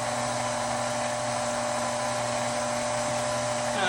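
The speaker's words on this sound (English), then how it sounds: "So switch your food processor or your KitchenAid back." A food processor or KitchenAid mixer running to mix pasta dough, a steady motor whine with an even tone, close and continuous for a few seconds, with no talking.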